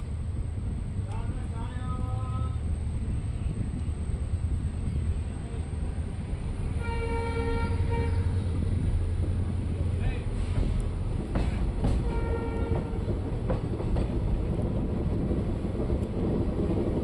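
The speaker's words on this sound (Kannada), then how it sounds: "ನಮ್ಮ ಟ್ರೈನ್ ತುಂಗಭದ್ರಾ ಡ್ಯಾಮ್ ರೈಲ್ವೆ ಸ್ಟೇಷನಿಂದ ಹೊರಟಿದೆ." A passenger train on the Hospet–Davanagere route pulls out of Tungabhadra Dam railway station, heard from on board as a constant loud rumble with clattering wheels and horn-like tones, while someone talks over it.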